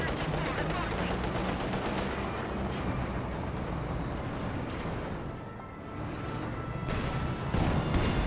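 Tank cannon and gunfire from a Company of Heroes 2 battle, with a Panzer IV and a T-34 76 trading shots; dense, continuous rumbling bursts and crackling fire fill the whole stretch, with a few louder impacts near the end.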